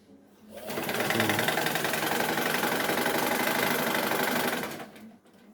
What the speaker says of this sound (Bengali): সেলাই হচ্ছে